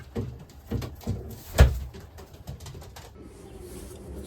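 Racing pigeons in a loft, with soft throaty coos and scattered thumps and wing or perch knocks at close range, the loudest hit about midway, followed by quieter rustling.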